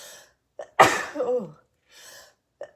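A single sharp sneeze sounds up close, with faint breaths around it and a brief spoken exclamation.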